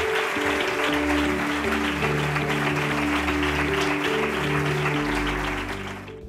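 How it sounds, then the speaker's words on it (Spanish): A crowd applauds steadily and loudly at the Premios Andalucía 2022 awards ceremony, dense clapping from many hands, with music playing underneath before the applause tapers off. "Un aplauso, por favor."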